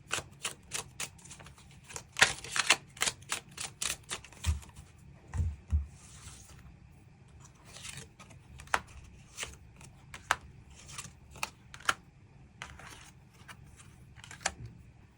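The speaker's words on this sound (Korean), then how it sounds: "그럼 이번 분들 추가 카드로 그래서 앞으로 내가 만나게 될 이 상대방이 어떤 특징을 가지고 있는 사람일지 추가 카드 뽑아보도록 하겠습니다." Tarot cards being shuffled and drawn during a love-fortune reading, giving a run of crisp papery flicks and taps at close range, irregular and quick, with no talking.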